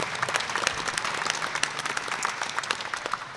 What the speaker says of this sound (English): If you would please stand up, let's give Linda a round of applause.